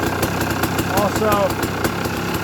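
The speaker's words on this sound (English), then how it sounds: "You hear it kind of rattling. That's the clutch making noise." Dirt bike idling with a loose, rattling clutch after the lever is pulled in and let out; a steady close engine chatter with faint periodic ticks runs throughout, with a brief whine in the middle.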